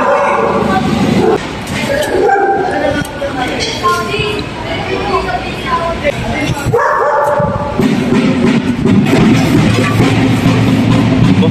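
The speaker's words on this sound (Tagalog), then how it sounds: "Nagalit na yung asong hero." A dog barks and yips angrily in sharp repeated bursts, mixed with people talking nearby and loud background noise.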